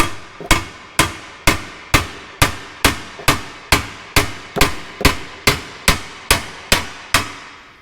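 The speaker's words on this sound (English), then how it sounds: "I'm gonna hit the brace with a hammer." A hammer striking a metal car brace on a 2016+ Mazda MX-5 Miata during clutch replacement, sixteen loud evenly spaced ringing blows about half a second apart, each decaying quickly, close and alone.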